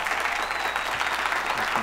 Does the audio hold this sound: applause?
yes